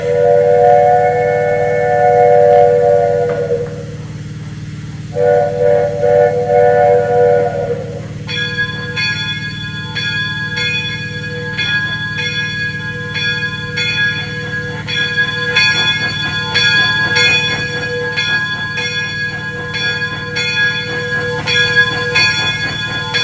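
A Disneyland Railroad steam train sounds two long whistle blasts, then a steady, ringing bell takes over, loud and close, with no talking.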